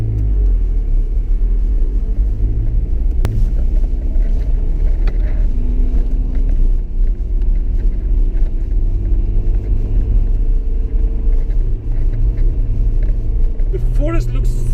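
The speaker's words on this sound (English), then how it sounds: "my 4x4 car is struggling to go up" A 4x4 car labours up the steepest part of a foggy forest road, its engine giving a loud, continuous low rumble and strain that runs the whole way through with a brief higher squeal near the end.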